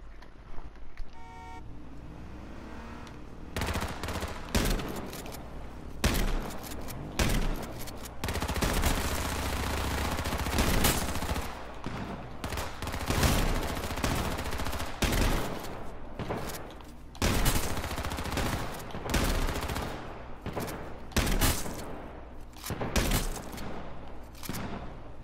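Gunfire in the online shooter game H1Z1 on PS4, with repeated bursts of shots and sniping over a vehicle engine rumble, fairly loud throughout.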